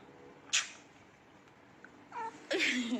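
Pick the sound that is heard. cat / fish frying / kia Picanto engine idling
cat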